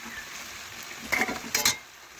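A utensil stirs cauliflower and carrots in a pan for a vegetarian cauliflower dish, giving a few clinks and scrapes against the metal over a faint sizzle, close by and fairly quiet.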